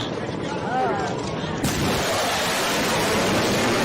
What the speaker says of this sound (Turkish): Tam kamera hizasından geçerken o patlama sesini duyduk.